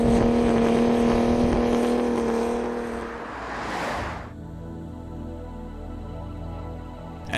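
Cars launching down an airstrip in a drag race, one engine note rising loudly and sweeping past close by around the midpoint, then a steady lower engine drone carrying on afterward, with no talk.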